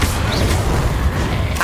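The Incendio fire spell is cast in the video game Hogwarts Legacy, giving a short, punchy burst with a low boom and a crackling flare at the end.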